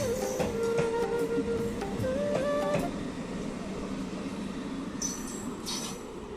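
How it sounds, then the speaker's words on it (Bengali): A train pulling into a railway station in a quiet village area squeals with high, wavering wheel tones over a dense, steady rumble that continues after the squeal fades. "ফাইনালি ট্রেন আমাদের রেল স্টেশনে চলে এসেছে"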